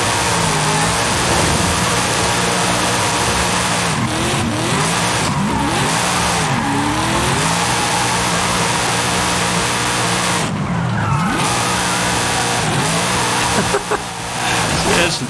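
A Wuling Sunshine S small van revs hard while drifting, its engine rising and falling in repeated surges with brief tire squeal, loud and close, while someone talks over it.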